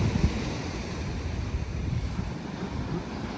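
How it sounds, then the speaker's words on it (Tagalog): Strong ocean waves at a Kauai beach, a continuous rumbling surf wash with gusty wind buffeting the microphone, close and fairly loud, with no talking. "Lakas kayo ng alon."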